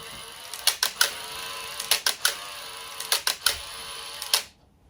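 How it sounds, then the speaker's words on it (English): Shutter of a Canon T70 film camera fires repeatedly, each shot a crisp mechanical clack followed by a short whirring motor-wind, heard in several close, loud clusters over a quiet room with no talking. "Good gracious, that's quite a noise."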